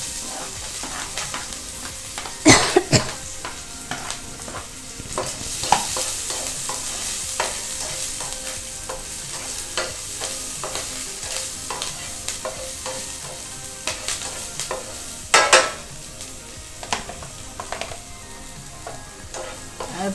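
Chopped ginger, garlic and green chilli sautéing in sesame oil in a pan, with steady frying sizzle under repeated stirring scrapes and a few sharper clatters, close and fairly loud, no talking.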